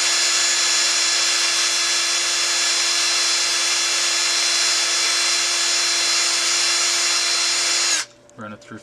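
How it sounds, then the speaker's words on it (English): A drill runs steadily, boring material out of an RC crawler axle, giving a loud, even high-pitched whine for about eight seconds before cutting off into faint handling noises. "squeeze the axle together so that it puts resistance on it and the material gets drilled out of there"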